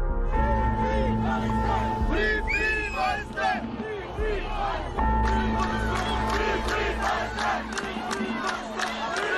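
A dense crowd of protesters at a pro-Palestinian demonstration in Brussels, loud rhythmic chanting and shouting voices rising and falling together over constant crowd noise.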